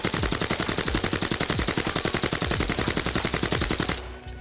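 Rapid automatic fire from a bullpup rifle in the shooter game Arena Breakout Infinite, a fast unbroken stream of sharp loud shots for about four seconds, cut off abruptly at the end.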